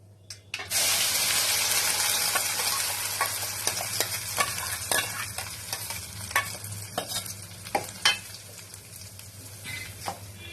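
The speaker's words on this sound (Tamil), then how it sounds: "இப்போ நம்ம அரைச்சு வச்சிருக்க தக்காளி வெங்காயத்தை நம்ம ஆட் பண்ணிடலாம்" A loud sizzle bursts out as a ground tomato and onion paste hits a hot pan, then keeps frying while a spoon scrapes and stirs, while making tomato chutney.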